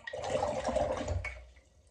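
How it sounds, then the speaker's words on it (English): A flat nylon paintbrush is swished and rinsed in a jar of clean water during watercolour painting, giving a close, continuous watery sloshing for about a second before it trails off into quiet. "get my flat nylon, rinse it out with some"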